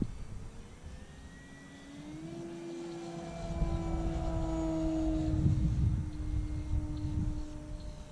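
An E-flite Carbon Cub SS radio-controlled airplane flies on its maiden flight, its electric motor a thin rising and falling whine that grows louder as it passes nearer, over outdoor background noise.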